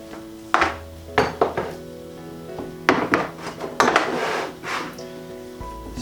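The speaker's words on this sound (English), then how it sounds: "So the next thing to do is just peel and chop all of the veg." A knife peels and chops vegetables for moussaka, beginning with an onion, sounding as close, irregular knocks and clinks on a board with scraping between them.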